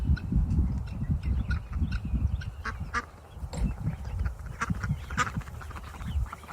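A flock of ducks out with other birds gives repeated honking quacks, loud and close, in an overlapping irregular chorus over a low muddled background.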